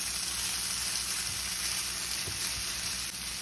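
Onions browning in garlic butter sizzle in a pan, a steady, close frying hiss with no pause and only small shifts as they cook.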